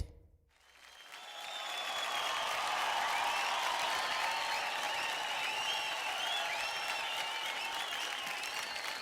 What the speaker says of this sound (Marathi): आपल्या रोबोट आणि रावणसाठी जोरदार टाळ्या होऊन जाऊ द्या